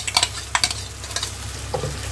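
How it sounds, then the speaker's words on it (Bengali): Onion paste sizzles steadily in oil in a pan while a spoon scrapes and stirs in short bursts, close and clear, with no talking. "একটু ভাজা হবে, পেঁয়াজ বাটাটা দিয়ে দেবো।"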